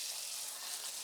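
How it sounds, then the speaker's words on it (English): Water pouring onto tomato plants in a garden plot, a steady soft hiss and splash from a hose or can, close and continuous for a second with no talk. "just giving my tomatoes a little watering"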